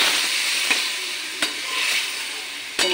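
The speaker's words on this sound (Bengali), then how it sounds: "আমি একটু মিশিয়ে নিই।" Ground poppy seed paste is stirred with water in a bowl, giving a close, soft swishing hiss punctuated by three sharp taps of a spoon against the bowl, with no voices.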